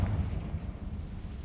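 A Confringo fire spell bursts in the Hogwarts Legacy video game, a deep, rumbling explosion that booms at the start and rolls on as a heavy low-end roar for over a second.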